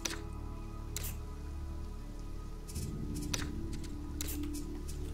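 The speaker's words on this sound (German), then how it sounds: "Oh, es regnet." Steady patter of rain falling on surfaces, with a low constant hum underneath and a few sharper splashes, in the video game Sheltered.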